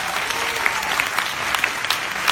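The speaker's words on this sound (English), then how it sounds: "I think that deserves a round of applause." Audience at a lecture breaks into applause, a continuous, fairly loud patter of many hands clapping with a few sharper claps standing out, no speech over it.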